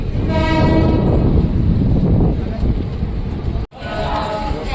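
A train pulls out of Jetalsar Junction in Gujarat, with a loud rumbling run and a horn-like tone early on, then a brief dropout before the rolling noise resumes, a voice talking over it.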